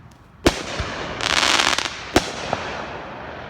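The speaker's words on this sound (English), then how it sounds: "see if he's gonna set off another of those fireworks" Fireworks set off outside a house in a front yard: two sharp, loud bangs with a burst of crackling between them, echoing outdoors.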